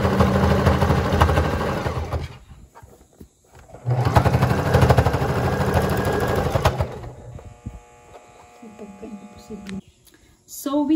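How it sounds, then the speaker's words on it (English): A sewing machine stitches a very thick pillowcase seam in two loud, close bursts of rapid whirring, separated by pauses, followed by quieter mechanical clicks and handling near the end. "So we have stitched all around this pillow, and we are at the end."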